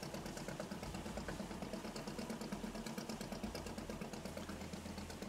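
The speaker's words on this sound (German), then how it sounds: "Motor ausstellen." A fishing boat engine idling in a Barents Sea fishing game, a steady low mechanical drone with an even throb, quiet and unchanging throughout.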